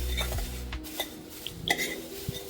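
Thin poha chivda gets mixed in a pan for Diwali, a large batch of about two kilos, giving sparse light scrapes and metallic clinks of a spoon against the pan, faint and close.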